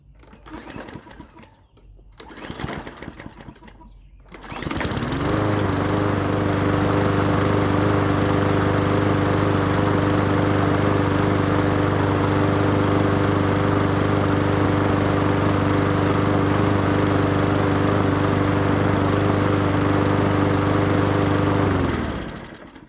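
A small gasoline Toro push lawn mower engine pulls to life after some handling noises and then runs loud and steady, a constant droning hum until it cuts off at the end.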